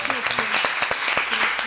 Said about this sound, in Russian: еще раз аплодисменты нашим командам